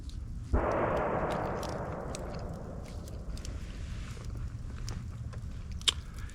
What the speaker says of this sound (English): the loud booms that you're hearing